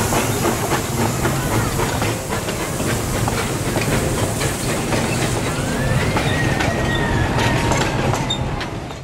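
A 1925 United Railways of Yucatan 4-6-0 steam locomotive on Mexico's Yucatan Peninsula makes a continuous loud hiss and rumble with steady clanking, close by, and no voices throughout.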